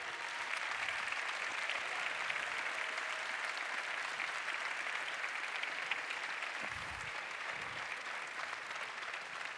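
Sustained applause from a graduation ceremony audience, steady and dense throughout, with faint murmuring and a few low thumps as people get to their feet.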